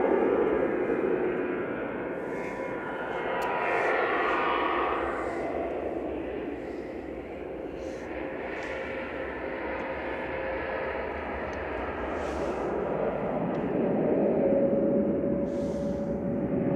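A Jet2 airliner, flight 843 to Chambéry, takes off at Manchester Airport with a loud, broad engine roar that swells and fades slowly over a long stretch, heard from a spotting position without talk.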